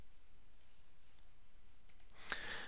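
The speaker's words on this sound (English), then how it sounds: "And click Save." A single soft computer mouse click sounds near the end of a short, very quiet stretch of near-silence at a desk.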